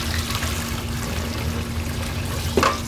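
Food being washed under running tap water in a home kitchen, a steady close pour and trickle with a brief splash near the end, with no talking.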